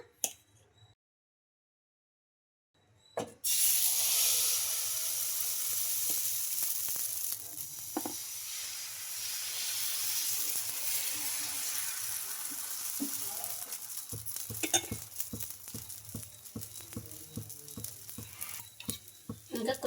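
Dosa batter, made with buttermilk, hits an oiled pan after a short silence and sizzles loudly and steadily close by, with occasional crackles and utensil taps toward the end and no talk.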